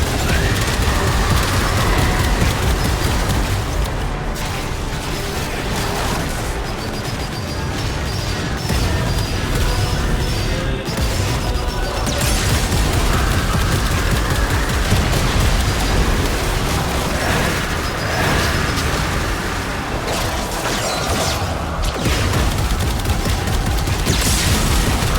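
Dense, continuous rapid gunfire from shotguns and pistols during a Warframe boss fight, with overlapping booming blasts and crackling impacts filling the whole stretch loudly and without pause.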